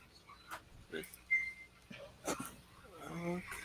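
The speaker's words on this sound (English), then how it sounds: "Oh, my dog's ready to come in." A dog whimpers and whines to be let back inside a house, with a few soft, thin whines and yips scattered through, a longer whine near the end, and faint background noise.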